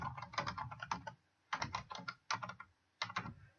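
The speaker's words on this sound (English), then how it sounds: "we'll just type in a name." Rapid keystrokes on a computer keyboard as a name is entered in a software editor, arriving in four quick bursts of close, crisp clicks separated by short pauses, with no voice.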